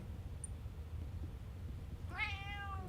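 A single cat meow rises near the end, preceded by a couple of seconds of low, steady background rumble.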